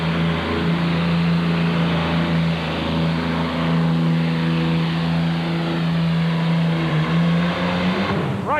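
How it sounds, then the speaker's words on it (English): A pulling tractor powered by an Allison aircraft engine roars at full power at a 1985 truck and tractor pull, one loud sustained drone that holds steady before pitching up sharply at the end. "Lots of power. The famous Allison engine."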